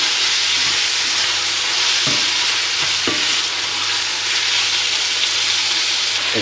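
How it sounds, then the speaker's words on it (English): Beef mince browning in a hot pan sizzles loudly and steadily, with a few scraping knocks of the spoon as it is stirred and broken up; no one speaks. "the browning process is coming along fairly well now, and the key is just to break up the mince so that it all gets cooked through"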